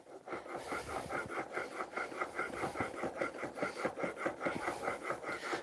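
A blade is sharpened on a fine-grit stone in steady back-and-forth strokes, each pass a soft, close scrape in an even rhythm with no speech.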